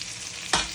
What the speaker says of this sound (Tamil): வெங்காயம் போட்டு நல்லா வறுக்கணும்